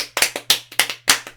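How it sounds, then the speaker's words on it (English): A few people give scattered, hesitant claps, a sparse and uneven handful over a second or so against a faint steady hum. "Confused applause."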